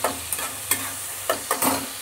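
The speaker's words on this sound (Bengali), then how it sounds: "এবার একটু খানিকক্ষণ নেড়ে নিই" A spoon or spatula stirs okra mash in a frying pan, giving several short scraping strokes at an uneven pace over a soft, steady sizzle.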